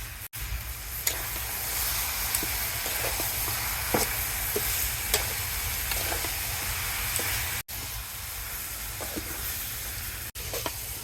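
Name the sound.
cabbage being cooked in a wok on a clay stove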